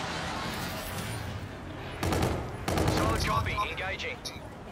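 Gunfire from teammates shooting at a sentry in a hardcore team deathmatch of Call of Duty: Infinite Warfare on the Crusher map, bursts of rapid shots layered over busy game noise, with a louder dense barrage in the second half.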